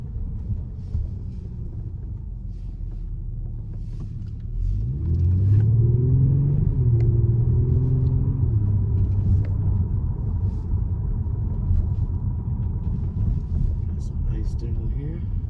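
A Kia Stinger's V6 engine rumbles low and steady while driving, deepening and swelling midway as it pulls harder, with a continuous road drone underneath and someone talking over it.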